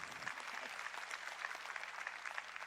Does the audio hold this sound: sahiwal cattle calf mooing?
no